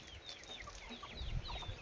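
Free-range village chickens kept alongside a fish farm cluck faintly and intermittently at a distance, amid soft chirps and low rumbling background noise.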